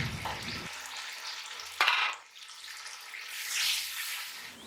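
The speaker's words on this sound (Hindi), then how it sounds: "एक बड़ी प्याज गोल्डन कर लेंगे।" A large onion frying until golden for beef haleem, giving a soft frying sizzle with a sharp stirring clatter midway and a louder hiss swelling toward the end.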